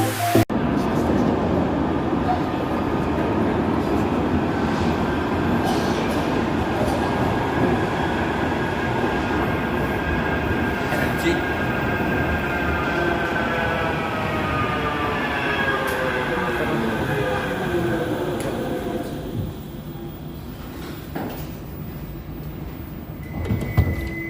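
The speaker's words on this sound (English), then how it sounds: "we're getting on our Altrincham train, or tram, down to Old Trafford" Inside a Manchester Metrolink tram running toward Altrincham and Old Trafford: a steady loud rumble of wheels on rail with rising and falling motor whine and squealing tones, easing near the end, with faint voices underneath.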